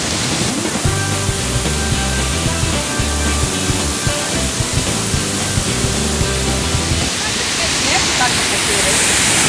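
Cachoeira de Matilde waterfall in Espírito Santo, Brazil, a loud continuous rushing roar of falling water, with someone speaking over it for much of the time before the water carries on alone.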